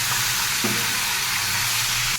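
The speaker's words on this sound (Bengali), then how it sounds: "আদা রসুন পেঁয়াজটা বেশ ভাজা ভাজা হয়ে গেছে" A steady, close sizzle of ginger, garlic and onion paste frying in oil, hissing continuously without pause.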